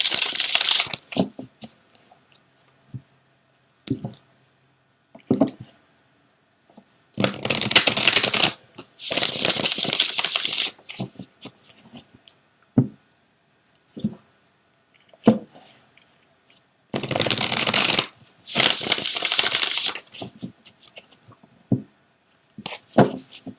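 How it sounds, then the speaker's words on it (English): Reading cards are shuffled by hand near the microphone in long riffling bursts, separated by scattered taps, slaps and soft handling clicks in a quiet room, with no one talking. "I shuffled it a very long time"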